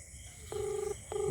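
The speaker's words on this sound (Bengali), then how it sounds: "রিং হচ্ছে" A phone ringback tone sounds twice, steady beeps separated by a short pause, clear and alone.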